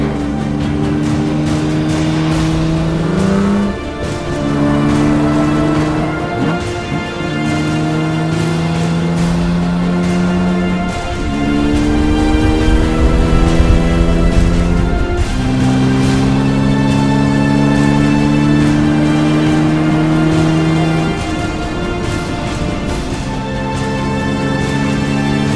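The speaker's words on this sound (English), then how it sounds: "Their Jaguar roars home 10 miles ahead of Moss and Collins' Aston Martin." A Jaguar D-Type race car at the Le Mans 24 Hours roars loudly with a sustained, high-revving engine note that climbs and shifts through gears repeatedly over a steady racing din.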